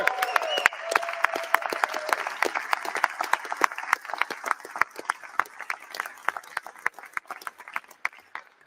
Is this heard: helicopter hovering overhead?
no